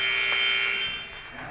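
A sustained electronic buzzer sounds the end of a boys' high school basketball game between Pelican Rapids and Park Christian, heard clearly for about a second before trailing off into the gym's background.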